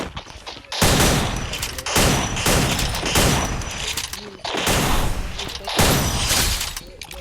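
Free Fire video game gunfire comes in repeated loud bursts of rapid shots, each lasting about a second, separated by brief quieter gaps.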